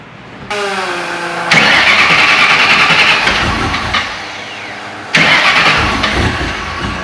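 A heavily modified 2009 Ford Mustang GT engine cranks briefly, then catches with a loud roar and settles into a rough idle. A second sharp rev bursts out near the end.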